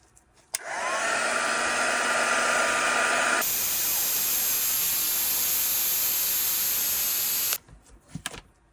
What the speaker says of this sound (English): So I'm hoping if I try and heat them with my heat gun, they will bend enough